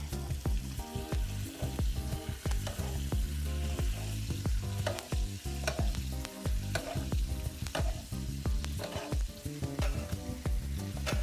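Filet mignon sizzling in melted butter in a pan, with a dense, close crackle and rapid spattering pops that run steadily throughout, and no voices.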